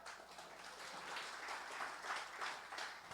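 Faint, distant applause fills a church service, a soft continuous patter of many hands with no voices on top.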